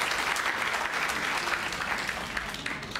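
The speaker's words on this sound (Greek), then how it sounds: "Οπότε θέλω ένα θερμό χειροκρότημα" Warm applause from an audience at a Greek community gathering, a dense, even patter of many hands clapping steadily throughout at moderate loudness, with no speech over it.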